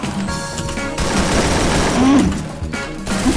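Rapid gunfire bursts and heavy booms ring out in the shooter game Free Fire after a bomb is thrown, loud overlapping volleys filling the few seconds with no clear talk.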